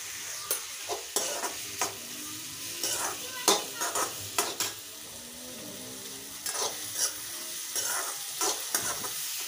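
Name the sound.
vegetables with turmeric being stirred and sautéed in a pan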